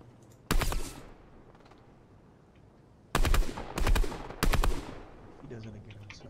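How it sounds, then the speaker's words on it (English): Pistol fire in the video game Fortnite comes as sharp, loud bursts of rapid shots: one early burst, then three close together, with talk faintly in the background. "I'll show them what this gray pistol can do."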